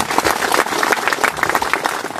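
Audience applause at a community gathering about a village customary council, a steady wash of many hands clapping at moderate loudness for a couple of seconds with no voices over it.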